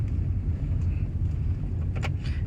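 A Toyota Prius hybrid car on the move, heard from inside as a low, steady rumble with a few faint clicks and taps over it, moderately quiet.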